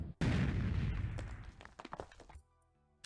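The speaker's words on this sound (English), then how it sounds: "the Pineapple, when it gets close to your opponent, it'll explode into a bunch of tiny shots that'll spread out everywhere" The Pineapple weapon in Pocket Tanks bursting into a scatter of tiny shots: a sudden loud blast that decays into a quick cluster of crackling pops over about two seconds, with no talk.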